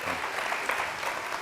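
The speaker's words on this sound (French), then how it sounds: "On va applaudir comme il se doit, s'il vous plaît." Brief burst of crowd applause, dense clapping at a steady level with a faint voice underneath.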